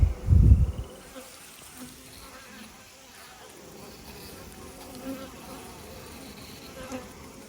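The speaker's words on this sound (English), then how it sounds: "I got a whole nother box on top and it's full of bees and brood." Honeybees buzzing around a stacked hive box full of bees and brood, a steady faint outdoor hum with a brief louder thump at the start.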